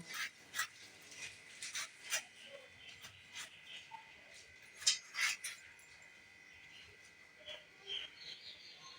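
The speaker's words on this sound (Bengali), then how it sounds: "কাঁচা লঙ্কাগুলো মাঝখান দিয়ে ফালি করে নেব আমটাও কেটে নেব পেঁয়াজটাও কেটে নেব" A knife slices green chillies, raw mango and onion for a mango and rohu fish curry, making a run of faint, irregular cutting taps and scrapes on a board at close range, with no speech.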